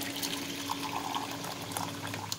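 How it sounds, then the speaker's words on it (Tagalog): Hot water poured from a tap or kettle into rice noodles (bihon) for cooking, a steady close splashing and trickling stream running throughout with no talk. "Tingkunti pang tubig na mainit para maluto yung mihon."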